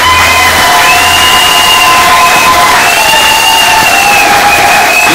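Loud, dense cheering and clapping from congress delegates filling a hall, a continuous crowd roar with shouts rising over it throughout.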